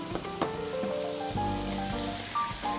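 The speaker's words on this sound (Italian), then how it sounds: "andiamo a cuocere i nostri burger" Beef burgers fry in a steel pan greased with pancetta fat, giving a steady, close, continuous sizzle with faint crackles and a low background hum, no talking.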